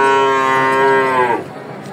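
A young Holstein Friesian heifer moos at a livestock market, one long, loud, drawn-out bellow held near the microphone before tapering off abruptly.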